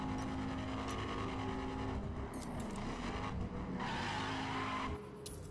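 A Bentley's engine is heard while the car is driving, a fairly quiet rumble with hissing and tire-like noise that shifts as the car moves, cutting off near the end.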